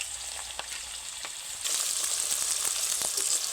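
Sliced bitter gourd chips fry in hot oil over a stove, a steady dense sizzle with small crackling pops, close and constant, growing slightly louder partway through as more pieces go in.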